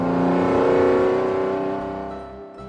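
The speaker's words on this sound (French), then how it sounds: "Un camion approche, déterminé" A motor vehicle, a truck on a quiet country road, with a loud steady engine drone and rising tonal whine that starts strong and slowly fades, with no talk.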